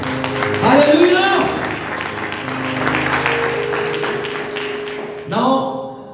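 A church congregation claps during a worship night, a steady wash of applause mixed under a speaking voice and music.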